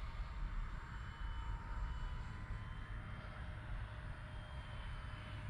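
A Dynam BF 109 RC model plane passes at about three-quarter throttle, a faint steady electric motor drone with a thin whine over a low rumble, continuous throughout, no talking.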